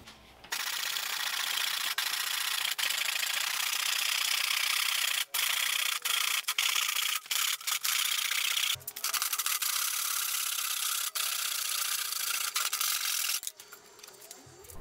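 Hand saw cutting through PVC pipe for a rocket stove build, a continuous close rasping back-and-forth stroke that runs for most of the stretch before stopping near the end.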